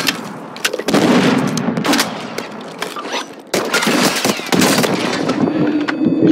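Gunfire in the video game Warzone 2.0: loud bursts of shots and booming blasts crack out repeatedly across the clip, dense and close, with a sharp jump in intensity midway.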